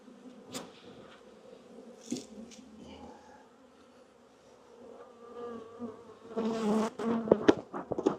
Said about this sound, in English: Check and make sure we don't have any bee fights going on down here.